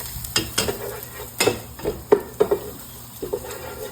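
Garlic, onion and ginger sautéing in a pot for chicken sinigang, with a spoon stirring and clinking against the pot in irregular knocks over a soft, continuous sizzle.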